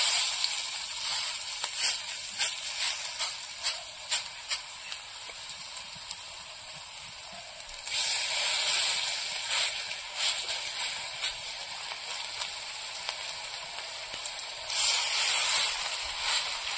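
Elephant foot yam fritters fry slowly in oil already used for frying fish, giving a steady close sizzle and hiss with scattered crackles and brief pops, and no voices.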